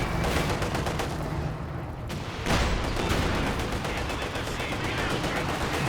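Katyusha rocket barrage in the strategy game Company of Heroes 2: a dense, loud crackling salvo of rapid launches and impacts runs almost continuously, with a brief dip before another heavy burst.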